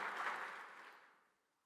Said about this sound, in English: Let's give that a round of applause, because that didn't happen by itself.